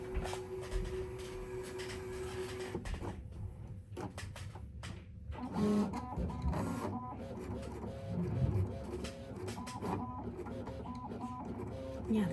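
A LOKLik iCraft cutting machine runs at a brisk pace, its motor whirring with repeated stepped tones and short mechanical shuttling movements, close and steady throughout.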